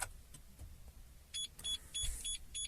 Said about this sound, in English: Receive 5 bleeps.